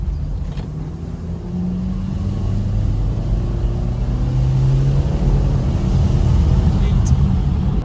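A BMW E93 320i four-cylinder petrol engine hums and gradually rises in pitch as it accelerates, heard from inside the car with steady road rumble underneath.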